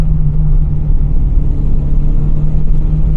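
A Volkswagen Golf 2 GTI G60 with 160 horsepower, with only the driver aboard, pulls hard up a hill. A loud, close, steady engine note rides over a deep rumble without pause.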